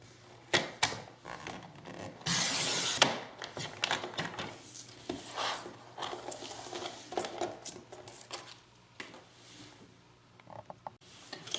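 Paper is cut into a strip for a scrapbook album page, giving a series of close crisp snips and slicing sounds, with one louder scraping cut, amid quiet handling noise and no talking.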